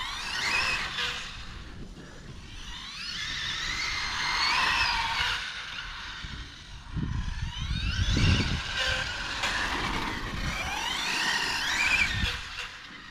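Hobbytech RR21 RC car on a 4S pack with high-pitched electric motor whines rising and falling as the throttle is pushed and released, with brief braking bursts and some background noise between runs.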